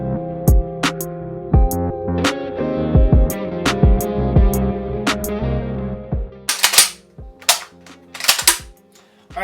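An IWI TS12 shotgun being function checked after reassembly, a series of sharp metallic clicks and clacks from action cycling and trigger pulls, irregularly spaced, with ringing metal tails and a cluster of rapid clatters near the end, close and loud.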